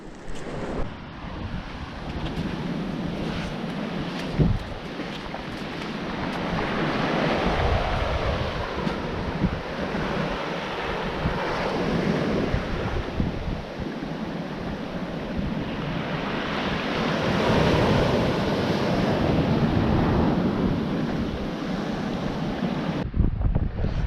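Sea surf breaking on a shore where the sea meets the Humber estuary, a steady rolling wash of waves that swells and eases over time, mixed with gusty wind noise on the microphone and no voices.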